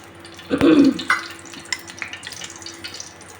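A brief clatter and pour of about three spoons of cooking oil into a pan, followed by faint crackling and light sizzling that continues quietly.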